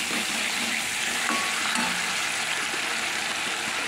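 Tomatoes and vegetables sizzle steadily in hot oil in a pot, a loud, even frying hiss with occasional stirring clinks, close up and with no voices.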